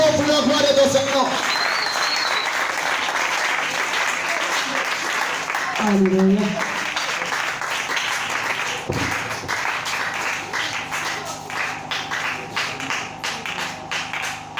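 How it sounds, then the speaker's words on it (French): A church congregation applauds loudly and steadily as the service continues, the dense clapping running throughout under a speaking voice and a brief sung or called word. "Acclame très fort pour la gloire de ton Seigneur."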